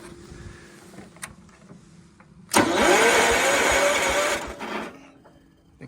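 A 1969 John Deere 140 garden tractor engine cranks and catches after a few seconds of quiet clicks, running loud and rising in pitch for about two seconds before settling lower.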